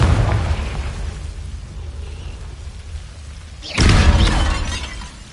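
A Confringo blasting spell from a wizard video game goes off as one sudden loud burst with a shattering crackle, ringing out and then tailing off over a low ambient hum.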